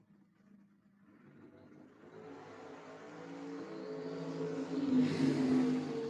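Drag race cars, a Mustang and a 1972 Dodge Dart, launching at a drag strip, engines swelling from a low rumble into a loud rising roar that builds steadily and peaks near the end.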